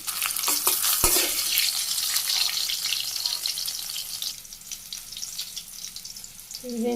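Fried bitter gourd goes into lentil dal in a Bangladeshi village kitchen, giving a bright, steady sizzle with stirring scrapes and a sharp knock near the start, and no voices.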